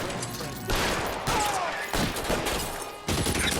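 Machine gun fire in LA Noire comes in loud repeated bursts of rapid shots broken by brief pauses, close and harsh, filling the whole stretch.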